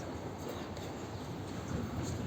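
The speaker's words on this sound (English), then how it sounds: "okay, the train's like right, really near us." A train runs close by at a station platform with a continuous low rumble and broadband roar, steady and moderately loud, without distinct clicks.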